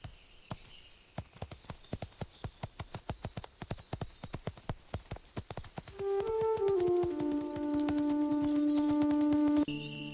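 Horse hooves clip-clop in a steady, even rhythm, close and clear. A sustained chime or bell-like ringing tone joins partway through and continues to the end.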